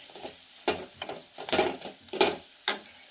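Chana masala spice mixture frying in oil while being stirred, soft sizzling under several scraping strokes of a spoon against the pan, close with an irregular rhythm.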